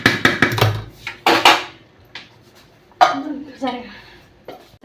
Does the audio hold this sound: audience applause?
no